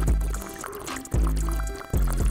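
Water is poured, giving a gurgling, splashing fill sound that rises and falls in a few surges, loud and close.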